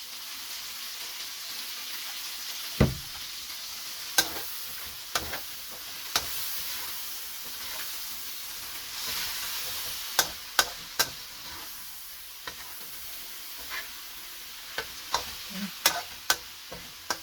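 Bihon and canton noodles frying in a pan with soy sauce, a steady sizzle running throughout with sharp clicks and clatters of stirring utensils scattered across it.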